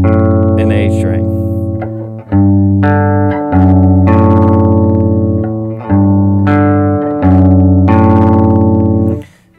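Electric guitar plays a riff at tempo, a loud, slightly distorted chugging pattern of repeated chords with short gaps between phrases, alone without talk.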